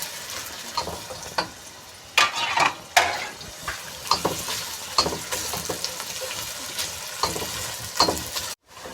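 Onion fries with bay leaf, cinnamon and green cardamom in hot oil, a constant crackling sizzle punctuated by frequent spatula scrapes and knocks against the pan, with no talking.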